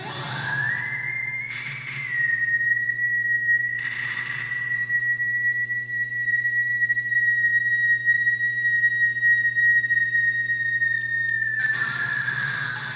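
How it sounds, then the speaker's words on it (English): A long, piercing sung whistle scream, layered in the background of a song mix, holds steady over a low sustained drone, with a couple of brief breathy bursts early on and another near the end. "that's a really long whistle scream that's just layered in the background of this"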